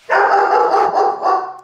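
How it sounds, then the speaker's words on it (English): Dogs in a home bark in an agitated, loud burst close by, one sustained bark-like yelp followed by a shorter one, with no talking. "I just knocked down something, so the dogs are going crazy."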